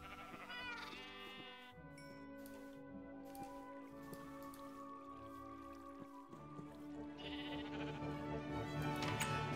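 Minecraft sheep on Nintendo Switch bleat repeatedly, with bursts at the start and near the end, over continuous game background music, clear and close, without speech.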